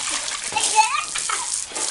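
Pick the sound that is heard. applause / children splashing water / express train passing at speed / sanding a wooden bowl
children splashing water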